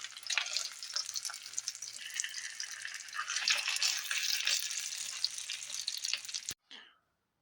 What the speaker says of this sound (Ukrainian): Так як ми смажимо на середньому вогні, не забуваємо перевертати.